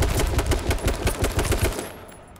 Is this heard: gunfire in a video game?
yes